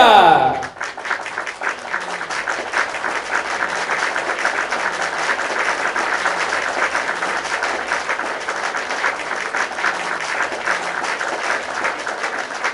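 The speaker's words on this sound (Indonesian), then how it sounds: "berikan tepuk tangan sekali lagi untuk hadiah spesial dari King Wijaya" Applause fills a birthday party as a crowd claps steadily and densely for about twelve seconds after a brief opening sound.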